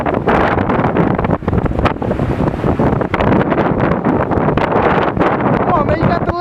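Hurricane Sandy winds in 2012 roar and buffet the microphone in a loud, unbroken rush of gusts, with people's voices mixed into the storm noise.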